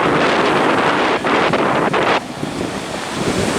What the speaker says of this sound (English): Windiest I've ever seen it out here.